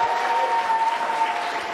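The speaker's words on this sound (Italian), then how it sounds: "Intanto farei un applauso a Rapallo e allo sport." Theatre audience applauding at an evening sports event in Rapallo, steady dense clapping from the crowd with a faint constant tone beneath.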